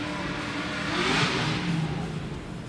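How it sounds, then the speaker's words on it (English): V8 drift car engine at a Drift Kings Asia event in Malaysia revs over a dense wash of crowd and ambient noise, pitch swelling then easing, heard from a distance. "we hear a V8 engine now"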